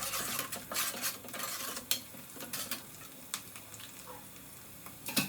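Tomato gojju being stirred quickly in a pan, with a rapid run of scraping, clinking spoon strokes and a soft sizzle underneath, loud and close with sharper knocks now and then.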